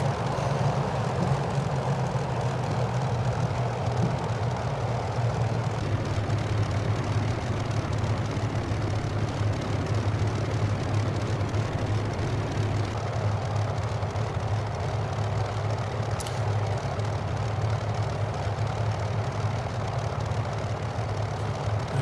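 Simulated P-51D Mustang engine idling steadily while taxiing in Microsoft Flight Simulator, a continuous low propeller drone at moderate level with no talk.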